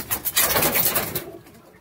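Pigeons coo close by in a short, soft run of throaty calls over about a second, fading out quickly.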